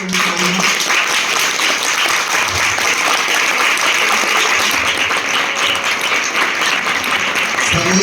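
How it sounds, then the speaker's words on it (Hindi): Loud, continuous clapping from a church congregation during a Christmas sermon, dense and unbroken for the whole stretch, with faint voices beneath. "जोर से ताली बजाओ"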